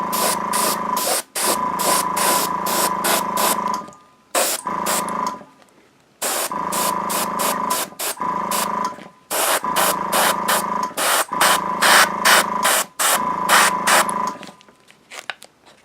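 Airbrush spraying green paint onto a miniature in the weathering stage, loud close hissing bursts of several seconds each with short pauses between, the trigger released and pressed again repeatedly.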